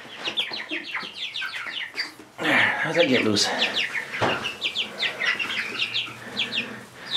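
Sapphire Gem chicken clucking and squawking on a small half-acre homestead during farm chores, several bursts of close clucks and fluttering with a person speaking briefly over them.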